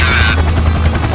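Helicopter in BeamNG.drive, a loud, steady rotor thump with turbine whine that holds close and constant through the whole short stretch, with no voices.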